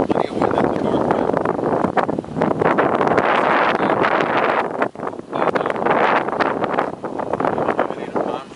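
Strong north wind buffeting the microphone at Jackson Harbor during a windstorm, loud gusty roar and rustle throughout, with a brief lull midway.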